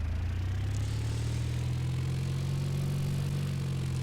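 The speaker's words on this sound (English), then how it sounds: "the engine started just fine" Single piston aircraft engine in the X-Plane flight simulator game, running at a steady idle with a constant low drone and faint rattle, with no voices.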